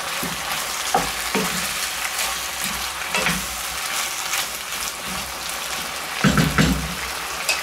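Vegetables for a Thai curry cook in a hot pan with a soft continuous sizzle, punctuated by several louder stirring bumps and scrapes, with no talk.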